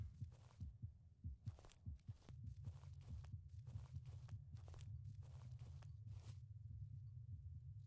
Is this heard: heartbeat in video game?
yes